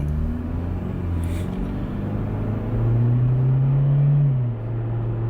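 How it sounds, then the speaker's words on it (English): A Hyundai Genesis Coupe four-cylinder engine on stock exhaust idles with a low, steady rumble, then revs up briefly and settles back down, close by with no talking. "I love the sound of this car, and on stock exhaust even, and it's only a 4-banger."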